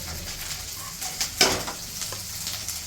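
Onions sizzle and fry steadily in a pan for a katla fish mustard curry, a continuous close hiss with a few brief stirring clatters and one sharper burst near the middle.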